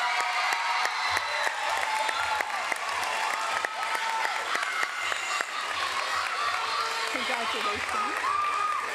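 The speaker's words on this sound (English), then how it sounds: "Let's give them an applause." An audience at a school awards ceremony in Mesa applauds and cheers, a dense steady wash of clapping with a few whoops throughout.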